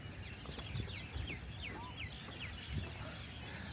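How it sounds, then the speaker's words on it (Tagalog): Birds on Al Noor Island in Sharjah give short, repeated chirps and whistles over a steady outdoor background. The calls are moderately loud and come at irregular intervals. "mga ibon"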